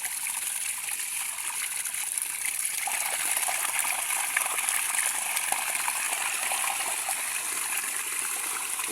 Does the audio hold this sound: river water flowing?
yes